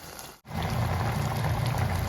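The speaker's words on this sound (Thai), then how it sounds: "เดือดเต็มที่แล้วนะคะ" A pot of almond milk comes to a boil with a constant close bubbling hiss after a brief dip near the start, and no talking.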